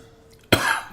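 After a moment of quiet room tone, one sharp, close cough bursts out and trails off into a breathy rasp.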